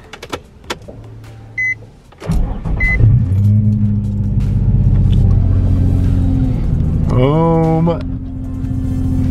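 A Nissan 350Z engine cranks briefly and fires up, settling into a steady, loud idle that holds close by for several seconds, with a short electric whir near the end.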